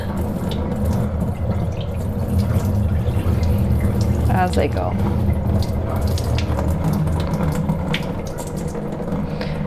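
Tap water runs steadily into a bowl as rice is rinsed and swirled by hand, a continuous splashing stream with a few sloshing bursts, while a person talks over it.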